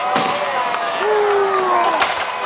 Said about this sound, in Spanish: media hora de putos cohetes